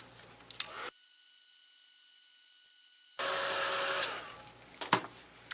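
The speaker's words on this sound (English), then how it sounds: "What happens with that heating tool is it's so hot that sometimes it can make it a bit sticky" A hot heating tool dries a mixed-media art piece, switching on as a steady, loud blowing hiss after a moment of quiet handling and running for a few seconds before cutting off, followed by light rustling and tapping.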